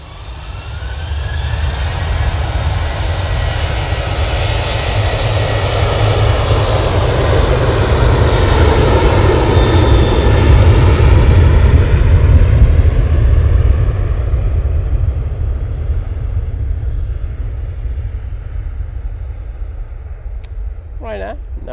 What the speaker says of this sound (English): Ryanair, now on the roll. Off to Dublin.